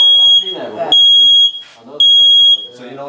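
A home smoke alarm sounds its test signal after its centre button is pressed: two loud, shrill, sustained beeps, with people talking between and over them.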